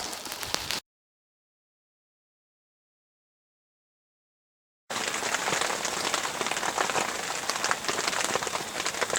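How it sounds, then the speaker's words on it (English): Steady rain patters hard on surfaces around a mountain hunting camp, a dense, close hiss that cuts out for a few seconds of silence before resuming at full strength. "Started raining about 5."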